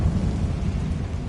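A Confringo fire spell explosion in the video game Hogwarts Legacy, a loud, deep rumbling boom that sustains with a crackling roar for over a second and swells again at the end.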